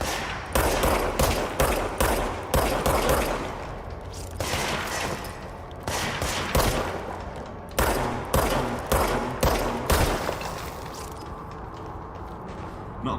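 Rapid bursts of automatic gunfire in a video game, loud and close, coming in clustered volleys with brief gaps and mechanical clatter between them.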